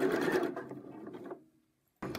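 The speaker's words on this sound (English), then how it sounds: "I'm now finishing my second line of stitching" A basic sewing machine runs steadily while stitching smocking rows on fabric, a close, continuous whirring hum that slows and stops, then briefly starts up again.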